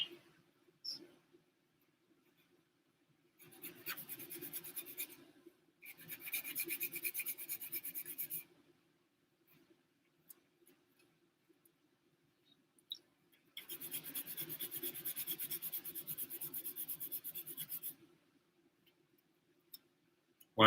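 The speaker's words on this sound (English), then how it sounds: "I bought these cheap sanding files from the beauty section at Walmart" Cheap sanding files rasp against a small plastic model car kit part in a quiet workshop, with three bursts of fine close-up scraping separated by silent pauses and a few faint ticks.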